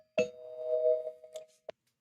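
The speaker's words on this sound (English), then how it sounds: "once the spoiler bell rings in 3, 2, 1" A spoiler bell chime marking a podcast segment: a single sustained bell-like ding that rings out and fades, followed by a few short bright accent hits, clear and alone.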